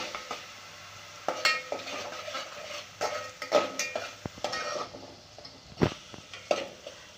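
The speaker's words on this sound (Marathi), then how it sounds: "मसाले आपले परतत आले।" A ginger, garlic and coriander masala for mutton rassa is sautéed in a pan, with soft sizzling and repeated scraping stirs and clinks of a spoon, close but fairly quiet.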